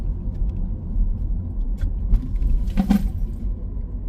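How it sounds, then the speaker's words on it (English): A 2025 Ford Explorer rolls over a speed bump at night, giving a steady low road rumble with a brief thump and rattle near the end as the suspension absorbs the bump. "Let's catch this speed bump here one last time"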